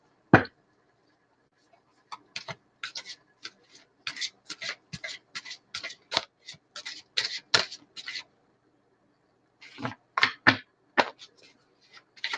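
Tarot cards being shuffled by hand, a run of quick papery riffles and soft slaps in irregular bursts separated by short pauses, close and fairly quiet with no voices.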